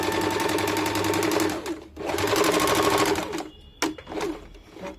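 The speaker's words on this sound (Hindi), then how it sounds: "अब आप लोग आइए मशीन पे, मैं आप लोगों को इसको सिल के बताती हूँ" A sewing machine stitches a katori-cut choli blouse in rapid, loud runs, pausing briefly near two seconds and again after three and a half seconds before short final bursts; no voices.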